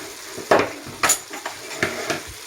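Vegetables being stirred in a frying pan with tomato sauce, potatoes and zucchini for a baked turli tray, giving several soft scraping stirs with a gentle sizzle underneath, close and moderately loud.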